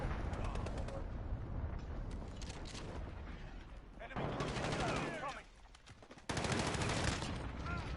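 Rapid automatic gunfire in Call of Duty Modern Warfare, sounding as two dense bursts of loud, close shots in the second half, over constant in-game battle noise.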